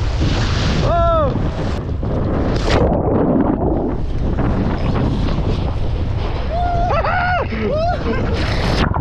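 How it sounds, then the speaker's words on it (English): Strong wind buffets the microphone on a fast-moving kiteboat at sea, roaring continuously with waves and water rushing beneath, while a rider's excited shouts and whoops cut through briefly. "It's windy."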